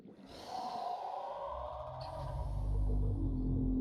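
Bone shark creature in the underwater game Subnautica, a drawn-out eerie moaning call with a whistling, sonar-like edge, swelling louder over a deep rumbling undersea ambience with no talk.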